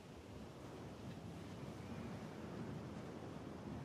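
Wind blows hard in a video game, a dense, steady roaring rush that stays loud and unbroken throughout, with a surf-like low swell underneath and no voices.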